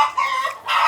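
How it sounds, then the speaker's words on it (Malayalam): A hen clucking after laying an egg at a village home, loud and close, a couple of drawn-out squawking cackles in under a second. "കോഴിയുടെ മുട്ട ഇട്ടിരിക്കുന്നു, ശബ്ദം കണ്ട."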